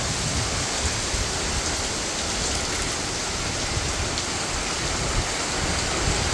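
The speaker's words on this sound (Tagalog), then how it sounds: "Malakas po ang ulan at saka po hangin." Heavy rain pours down steadily during a typhoon, driven by wind. The dense, even hiss continues throughout with no pauses and no voices.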